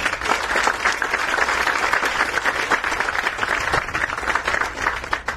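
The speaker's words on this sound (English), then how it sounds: "Let's give them a round of applause." Sustained, even applause from a gathered crowd at a main library ground breaking ceremony, honoring library trustees; the clapping stays at a steady level throughout without speech.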